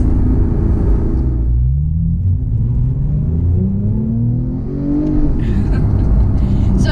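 Porsche 911 GT3 driven slowly in manual mode over a bumpy city street, its engine giving a steady, loud low rumble with rising and falling revs throughout.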